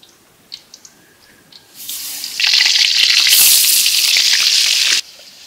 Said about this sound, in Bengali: মাছটা তেলে ভাজিয়ে নেব